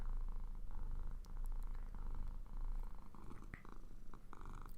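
A cat purrs steadily up close in a quiet room, a soft continuous rumble with faint breathy pulses and no voices.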